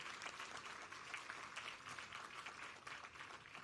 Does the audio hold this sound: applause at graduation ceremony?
yes